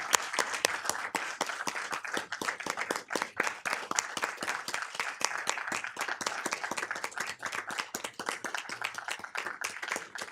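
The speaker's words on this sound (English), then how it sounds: "Can we please give Chief Murray and her family one big round of applause" Applause and clapping from the audience at a city council meeting honoring the police chief and her family, a dense steady round of many hands lasting about ten seconds with no talk over it.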